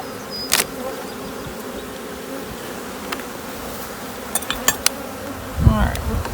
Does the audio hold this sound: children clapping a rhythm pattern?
no